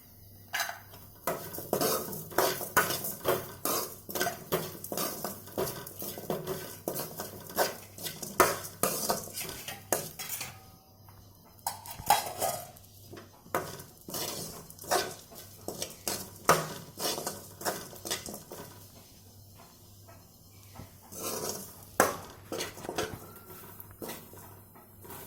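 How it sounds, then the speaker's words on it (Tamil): A spoon scrapes and clinks against a pan while grated coconut is stirred and sautéed with cumin and fennel seeds for a mushroom kurma, with repeated close metallic knocks, light sizzling and brief pauses. "அதை இதோட கலந்து நல்லா வதக்கி விட்டுப்போம்."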